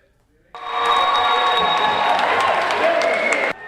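Boxing fans at a sold-out Swift Hall fight night break into loud cheering and applause for a hometown fighter. The roar starts abruptly, holds for about three seconds with shouts rising above it, then cuts off.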